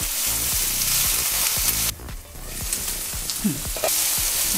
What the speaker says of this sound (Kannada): ಸೊ ಇದು ಒಂದು 2 ನಿಮಿಷ ಫ್ರೈ ಮಾಡೋಣ. ಯಾಕೆಂದರೆ ಕ್ಯಾಪ್ಸಿಕಮ್ ಸ್ವಲ್ಪ